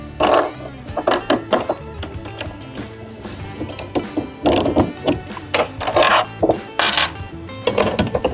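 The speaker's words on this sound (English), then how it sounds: "You'll need this to unscrew and rescrew all of the bolts on the hopper." A 10mm socket wrench ratchets on the bolts of a Pacer Pro treadmill hopper during assembly, giving irregular clicking bursts with metallic clinks and clatter, close and fairly loud.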